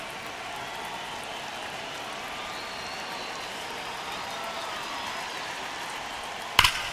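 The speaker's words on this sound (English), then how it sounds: "Crowd locked in right now." A stadium crowd in the baseball video game MLB The Show 25 keeps up a steady, diffuse murmur like rain during a tense ninth inning. A sharp crack sounds near the end.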